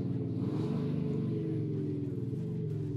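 Mercedes W213 with a Panthera active exhaust set to a more aggressive mode, a steady, throaty low rumble of the idling engine with a pulsing burble, continuous and close for the whole stretch.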